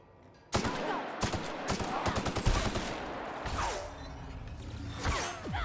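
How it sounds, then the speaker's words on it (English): Rapid bursts of gunfire in The Outer Worlds video game, a dense fusillade of loud close shots crackling for several seconds, with whooshing and impacts mixed in. "Who's shooting me?"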